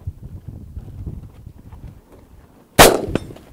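A single sharp AR-15 rifle shot fired offhand at a target about 300 yards away, loud and close, standing out after a stretch of quiet wind and faint rustling.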